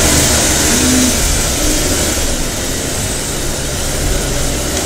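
Racing kart engines at a karting championship race start at WhiteRiver Park rev and drone together, a loud, dense, continuous engine roar from a whole field of karts with no voices over it.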